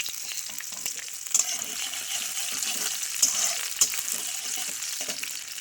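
Chilies and ginger-garlic paste sizzle and crackle steadily in hot oil in a home kitchen, with a few sharp spatters and spoon stirs standing out over the continuous frying hiss; no one speaks.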